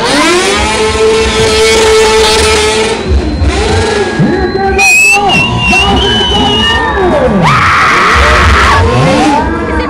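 Motorcycle engines rev and whine loudly at a stunt show, rising and falling in pitch over constant crowd noise, with an announcer talking over them throughout.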